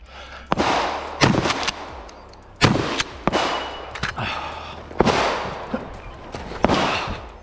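Pistol shots ring out at a shooting match as a competitor engages three mini IPSC paper targets, firing quick pairs of loud, sharp reports in several bursts across the stage, close and echoing, with no voices.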